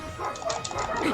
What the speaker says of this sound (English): And I do apologize if you hear dogs in the background.